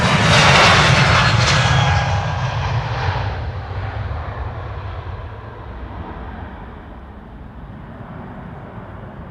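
A jet airliner departing Amsterdam Schiphol Airport roars loudly at first, then fades steadily into a distant rumbling drone as it climbs away, with no talk.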